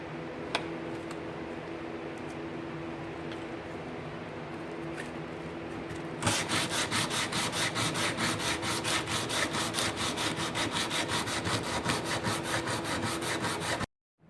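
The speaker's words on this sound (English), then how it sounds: "time for the not so fun hand sanding process" Quiet background hum gives way to rapid back-and-forth scraping strokes of sandpaper rubbed by hand on an antler knife handle, steady and close for several seconds before stopping abruptly.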